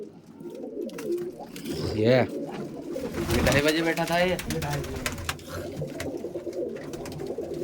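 Flying-breed pigeons coo softly in a steady, repeated murmur while someone talks over them close by.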